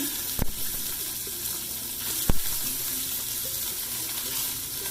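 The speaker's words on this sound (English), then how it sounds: "Okay, my olive oil is smoking. I'm gonna carefully put these guys in." Scallops sear in smoking-hot olive oil, a continuous loud hiss and crackle throughout, with two sharp clicks or knocks of a pan or utensil breaking through the sizzle.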